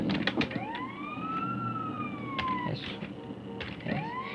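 An ambulance siren in GTA San Andreas wails in long rising and falling sweeps, fairly close and steady, with a few knocks and clicks around it and no talk.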